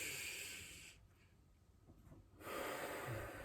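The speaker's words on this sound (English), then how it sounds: "And you repeat, breathing out, holding." A slow, steady exhale during a breathing exercise: a soft, close airy rush that fades into near silence before a second breath of air swells back in, with no talking.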